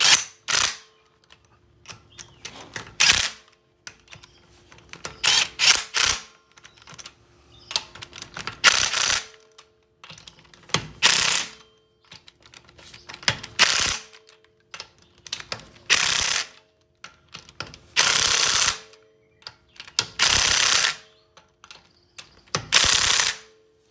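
Impact wrench or ratchet bursts tightening wheel lug nuts in a star pattern on a Cadillac ATS during a brake job, a dozen or so loud sharp rattling runs separated by short pauses.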